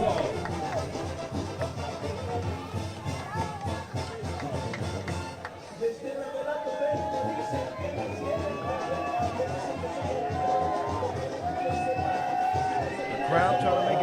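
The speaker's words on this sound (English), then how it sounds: "Crowd trying to make it difficult on Machado at the line." Arena crowd noise at a FIBA 3x3 AmeriCup women's basketball game, fans trying to rattle a free-throw shooter; a steady, loud roar and babble runs throughout under close commentary.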